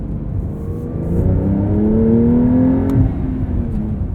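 A 2023 Porsche 911 Carrera T with a manual gearbox pulls through a gear, the engine tone rising steadily with road noise, then dipping at a shift before carrying on, loud and close from inside the car.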